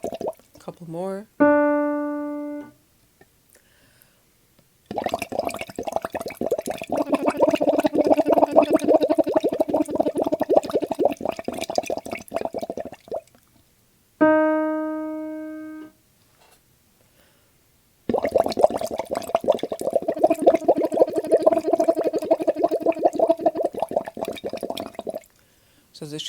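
Lip or water bubbling used as a voice warm-up, alternating voiceless bubbles with bursts where a sung pitch glides in, repeated twice over about 26 seconds with pauses between.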